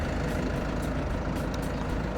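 A Hino J05E four-cylinder diesel engine in an SK200 excavator runs with a loud, steady, rough rumble close by, continuous throughout with no pauses.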